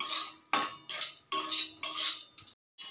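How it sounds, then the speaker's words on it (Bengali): A metal spoon stirs semolina frying in hot oil in a pan, with about six rhythmic scraping and clinking strokes, close and fairly loud, and no talking. "গরম হওয়া তেলের মধ্যে দিয়ে দেবো সুজি, দিয়ে ভালো করে একটু নেড়ে চেড়ে নেব"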